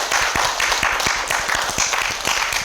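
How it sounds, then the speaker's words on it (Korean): An audience at a healing-center lecture applauds the staff, a dense, steady patter of many hands clapping at close range, loud and continuous throughout without any voices. "이 자리를 빌어서 우리 스태프들을 위해서 한번 박수 좀 쳐주시면 감사하겠습니다"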